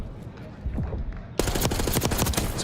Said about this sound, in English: Incredible gunfire wins.